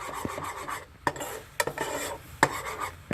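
Glaze for Tula gingerbread is stirred until it foams, giving soft scraping and rubbing strokes with a few sharper clicks of the utensil against the pot, close and fairly quiet, with no voices.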